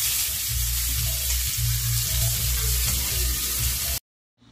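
Meat for Filipino humba sizzles steadily in a hot pan, a loud, continuous frying hiss with faint stirring, cutting off abruptly at the end.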